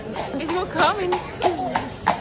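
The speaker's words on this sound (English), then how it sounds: "there's a horse coming." A horse on the streets of Bruges, Belgium, clip-clops past in quick hoofbeats, half-buried beneath nearby talking.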